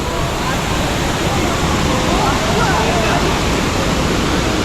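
Kawasan Falls in the south of Cebu pours in a constant dense rush of white noise, loud and close, with faint voices chattering underneath.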